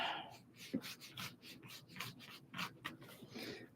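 Pencil sketching leaves on paper for a watercolor painting, a soft close scratching and rubbing in short uneven strokes, quiet and steady with small taps.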